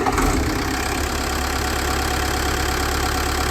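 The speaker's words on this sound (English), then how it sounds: "we removed the starter engine, replaced it with a new one, and it fired right up." A Mercedes 609D campervan diesel engine, just refitted with a new starter, runs at a steady, loud idle with a rough knocking throb, close and continuous with no talk.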